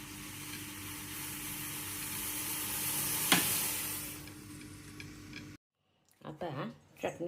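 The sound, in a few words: ginger tea boiling on the gas stove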